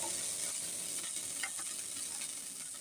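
Eggplant slices sizzle steadily in hot oil in a home kitchen pan, a continuous close hiss with small crackles and no talk.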